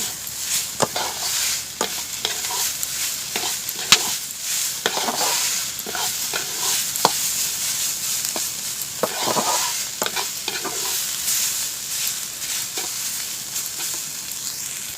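Egg and vegetables seasoned with salt, chilli powder and turmeric get stirred in a sizzling pan, steady frying hiss broken by repeated sharp spatula scrapes and clacks.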